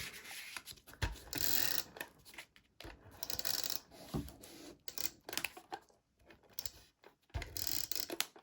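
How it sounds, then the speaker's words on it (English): A tape gun pulls tape and presses paper down onto a card, giving repeated close rasping, tearing bursts separated by short pauses, with no voices. "let me grab my tape gun, and I will tape this down to the card"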